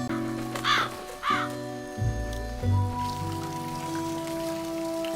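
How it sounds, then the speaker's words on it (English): A crow caws twice in quick succession, loud and harsh, over a sustained musical backdrop with steady tones, followed by softer rustling sounds. "the witch's crow just pulled up"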